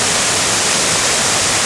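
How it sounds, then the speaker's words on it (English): A two-part waterfall with white water pouring down gives a loud, close, unbroken rushing roar that stays steady throughout. "A two-part waterfall, small upper part and a bigger lower part."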